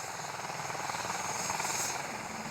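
A rescue helicopter runs steadily nearby at a crash scene, its rotor and engine roar holding constant and loud throughout with a faint rhythmic beat.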